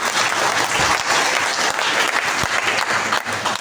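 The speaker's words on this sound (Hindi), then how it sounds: "तो एक बार तालियां बनती है कंपनी के लिए भाई साहब" Dense, loud audience applause at a business seminar for the company, a steady wash of many hands clapping at once with no break for the whole stretch.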